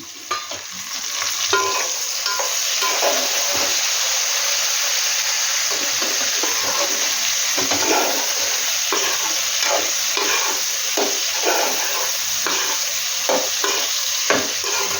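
Two chopped tomatoes fry with sambar premix in a pan, giving a strong, continuous sizzle and hiss, with repeated spatula scrapes and stirring clatter throughout and no voices.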